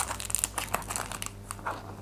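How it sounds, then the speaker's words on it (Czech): Small screws for a metal 1967 Mustang Shelby GT500 Eleanor scale model kit are unpacked from a plastic packet, giving a close, continuous crinkling and rustling with small sharp crackles throughout. "Tak já si zase nejdřív vybalím šroubky."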